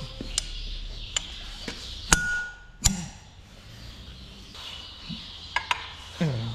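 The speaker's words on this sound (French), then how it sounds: "on va y aller à l'arrache avec un marteau" Sharp metallic hammer blows knocking loose the clutch of a Case CS 94 tractor, several separate ringing strikes spaced irregularly over a quiet workshop background, a few with a brief clanging ring.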